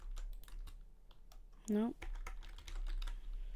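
Steady close typing on a computer keyboard, light clicking keystrokes running throughout, briefly interrupted by a short spoken word midway.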